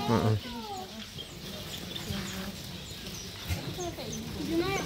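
Small caged birds at an animal village near a hot spring chirp in quick, repeated sweeping calls throughout, close by, while people talk over them.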